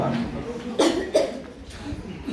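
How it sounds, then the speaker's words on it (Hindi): A person coughs twice in quick succession after deep breathing, each cough short, near and moderately loud, with low breathy room noise before and after. "ये पोजीशन देख लो और डीप ब्रीथिंग करके खांसना है।"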